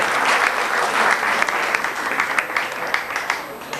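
An audience claps loudly and steadily to welcome a guest at a gathering. The dense applause carries a few sharper individual claps and lasts a few seconds, with no voices over it.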